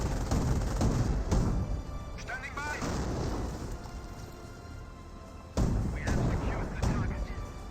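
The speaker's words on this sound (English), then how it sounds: "this airborne squad is getting annihilated by the mortars" Mortar fire in Company of Heroes hammers an airborne squad, with repeated deep booming blasts and cracking impacts amid a busy battle soundscape. A commentator talks over it, and there is a sharp louder explosion near the end.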